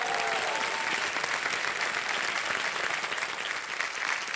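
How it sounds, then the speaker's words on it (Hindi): A television quiz show studio audience breaks into dense, sustained applause, many hands clapping loudly and evenly for the whole stretch without pause. "तब तक हम आपके लिए ताली बजवा देते हैं"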